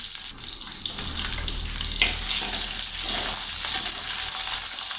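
Onions sizzling in hot oil with mustard seeds in a clay pot, a steady close crackling fry throughout with a brief stir or clatter near the middle.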